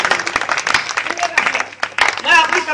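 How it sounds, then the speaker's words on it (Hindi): An audience claps for a poet at a Hindi poetry recital, with scattered, fairly close hand claps running throughout, mixed with voices and a brief spoken passage near the end. "ताली बजाइए ओज के कवि।"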